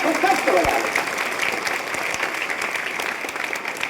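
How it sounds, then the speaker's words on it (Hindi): Schoolchildren clapping for themselves in a school gathering, a dense loud round of applause that holds steady and tapers slightly over a few seconds, with a voice speaking over it. "एक बार अपने लिए तो खूब कस के ताली बजाइए लो आप लोग, अपने लिए खूब कस के बजा लो"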